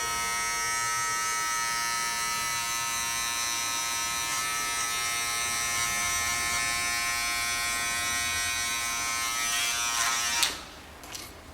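An electric hair clipper with a 0.5 guard cuts hair in a short men's style, giving a steady, close, high buzzing hum that ends abruptly with a few brief handling knocks.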